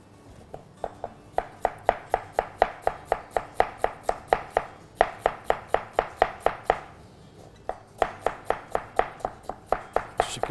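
Knife chopping onions on a cutting board, a steady run of sharp, evenly spaced close knocks in quick bursts with brief pauses between them, no voices.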